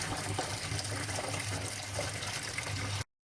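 Water gushes steadily back into a koi pond filter as it refills, a continuous loud rushing and splashing that cuts off abruptly near the end.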